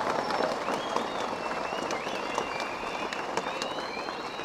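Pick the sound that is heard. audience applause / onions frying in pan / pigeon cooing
audience applause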